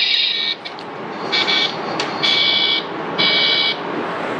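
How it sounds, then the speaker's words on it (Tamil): A toy car's electronic horn sounds when its button is pressed, giving four bright beeping honks in an uneven rhythm, close and fairly loud over light background noise. "நீங்க பிரஸ் பண்ணீங்கன்னா ஹார்ன் அடிக்கும் ப்ரோ."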